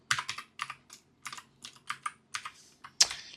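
Rapid, close clacking of keys on a computer keyboard as a command is typed in a Bash terminal, a burst of uneven keystrokes ending in one harder tap like the Enter key.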